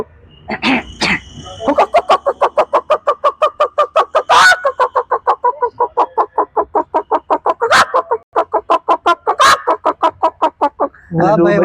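A voice imitates a rooster's alarm call: a long, rapid run of sharp, evenly spaced clucks, loud and close, with a few higher squawks punctuating it.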